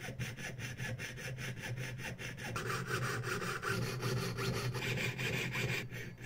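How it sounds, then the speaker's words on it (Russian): A jeweller's saw cuts with quick, steady back-and-forth strokes as the saw frame is turned, a close rasping rhythm that continues throughout. "теперь вправо поворачиваем раму лобзика, соответственно, и влево уходит пилка"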